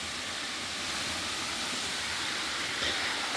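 Steady broadband rush of water at the top of a waterfall in a natural setting, a continuous hissing roar with no talk.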